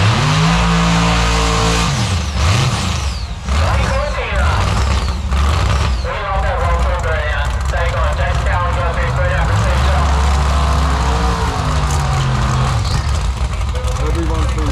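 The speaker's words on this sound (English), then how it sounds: "Cowan in the LC Cabrana to take on Scotty Cortina, the HG Holden." Drag racing car engines, including a Holden and a Cortina, roar and rev loudly throughout at Palmyra Dragway, with an announcer talking over the continuous engine noise.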